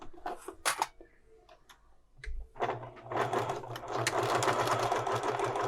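After a few scattered taps and handling noises, a sewing machine starts up and stitches a quarter-inch seam on a fabric book page, its rapid whir building and running steadily to the end.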